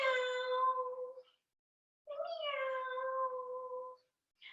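Two drawn-out meows made by a human voice imitating a cat, each about a second long, with a short pause between and a faint third starting at the end.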